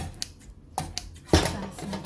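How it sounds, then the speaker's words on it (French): Scissors snip through soaked Chinese vermicelli noodles while preparing a fish pastilla crown, giving a few short, sharp close cuts and clicks spaced across a brief moment. "Là, je prends une paire de ciseaux et le vermicelle. Hop, je coupe."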